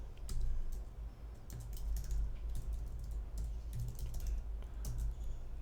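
Typing code on a computer keyboard, a quick irregular patter of close key clicks in short bursts with small pauses, alone and fairly quiet.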